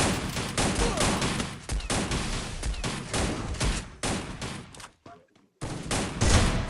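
Rapid bursts of gunfire from the Free Fire battle royale game during a LAN tournament match, dense and loud, with a brief gap near the end; a player's voice talks over the shooting.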